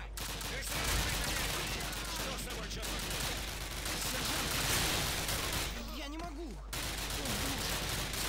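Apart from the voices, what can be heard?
gunfire in the video game Call of Duty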